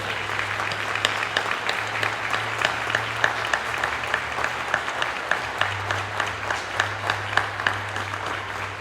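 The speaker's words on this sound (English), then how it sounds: "let's everybody give a round of applause to our veterans and active duty military" Sustained applause from a large audience at a police academy graduation ceremony honoring military veterans, steady dense clapping with some sharper individual claps, continuing evenly for several seconds with a low hum underneath.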